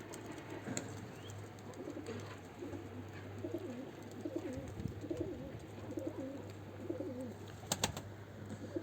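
Pigeons cooing on a rooftop terrace, repeated soft throaty coos rolling on and off over a low steady background hum, with a couple of sharp clicks near the end and no talk.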